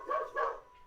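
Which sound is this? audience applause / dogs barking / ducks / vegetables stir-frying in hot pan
dogs barking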